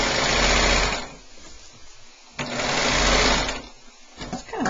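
A coverstitch sewing machine stitches elastic onto the waist of thin jersey fabric in close, rapid mechanical runs, two longer bursts separated by pauses, then a few short stop-start stitches.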